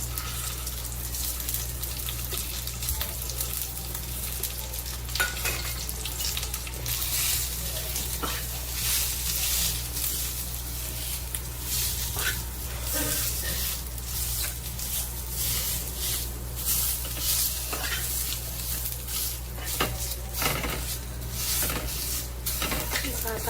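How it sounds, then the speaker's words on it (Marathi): Onion fries in oil in a pan with a continuous close sizzle, overlaid by intermittent scraping and clinking of a stirring utensil under a steady low hum. "कांदा असा तेलामध्ये परतून घ्यायचा"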